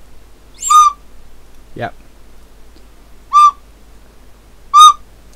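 Three short, shrill tooting notes from a toddler's toy flute, each held briefly with gaps between, loud and close, with a single spoken word in between.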